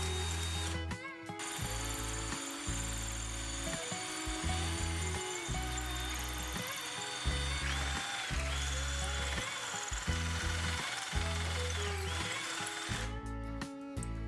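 A power drill runs in repeated bursts, whining as it bores into a wall, with brief pauses between, close and steady.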